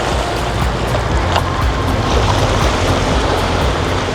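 Ocean surf washes steadily against a small beach beside the old Portuguese colonial center in East Timor, a loud, continuous roar with wind and no speech.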